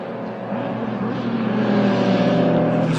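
Honda Integra race car engine at speed on a circuit during a time attack event, a loud, steady drone with rising pitch as it accelerates, close and continuous throughout.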